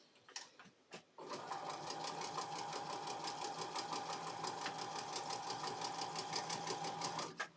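A sewing machine winds a bobbin at steady high speed, a loud continuous whirring hum with rapid mechanical ticking that runs for about six seconds after a couple of brief starting clicks, then stops.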